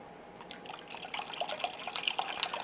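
Whole milk being whisked into a breakfast casserole custard with cinnamon and allspice, soft quick liquid splashing and light clinks, close and moderately quiet.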